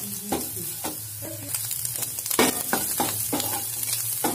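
Fried eggs and potatoes are stirred together in a frying pan: continuous close sizzling with a run of spatula scrapes and knocks, some sharper and louder than others.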